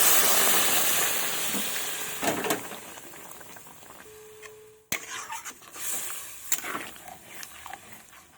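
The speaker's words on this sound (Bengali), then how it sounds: "এবার ঝোলটা আর কিছুক্ষণ ফুটবে।" Fish curry broth with cauliflower and tomato boiling in a pot after hot water is added, a steady close bubbling hiss with scattered pops and a brief clink partway through, no talking.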